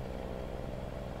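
A truck engine in Euro Truck Simulator 2 runs at a steady low drone, a constant even rumble with no pauses and no talk.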